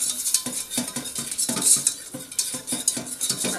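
Flour being stirred into melted butter in a pan, a steady series of close scraping and clinking strokes of a utensil against the pan, with a faint sizzle underneath and no talking.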